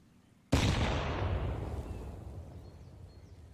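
A frag grenade detonates in Counter-Strike on the Inferno map, a single sudden loud blast that decays into a long rumbling tail, with no talk.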